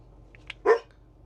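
A puppy gives a single short bark, close and fairly loud, preceded by a couple of faint yips over a quiet low background hum as if heard from inside a parked bus at a Seattle-area campground.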